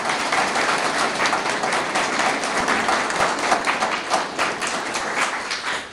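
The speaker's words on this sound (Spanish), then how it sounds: "pido un fuerte aplauso" Sustained applause from a political rally audience in Cajabamba, Peru, dense steady clapping filling the space for several seconds with no talk over it.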